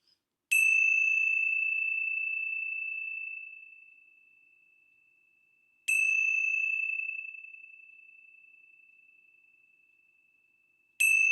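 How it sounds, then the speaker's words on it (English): A meditation session opens with a bell struck three times at slow, even intervals. Each clear, bright ring hangs and fades over several seconds in otherwise silent surroundings. "let's begin our time together with the ringing of the bells"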